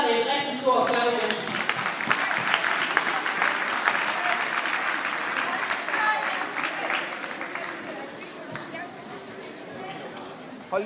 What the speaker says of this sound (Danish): Vi giver lige holdene et rigtig stort klap.